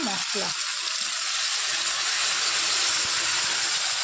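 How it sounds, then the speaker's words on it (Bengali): Onion and tomato fry in a pan with a loud, even hiss and sizzle that carries on throughout. A brief voice is heard at the very start. "দেখো পেঁয়াজ আর টমেটোটা ভাজা ভাজা হয়ে এসছে"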